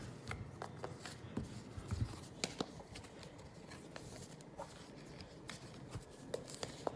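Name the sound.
shuffling game cards for a solo campaign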